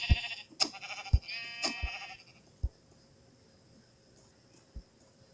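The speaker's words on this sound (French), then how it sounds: "J'ai entendu 2 cris de moutons." A few sheep bleat in quick succession at night, fairly close, followed by scattered soft thumps and quiet outdoor background.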